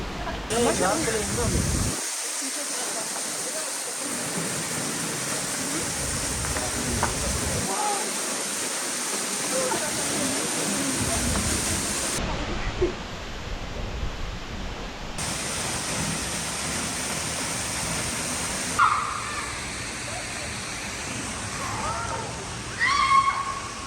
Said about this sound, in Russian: Водопад. Очень красивое место.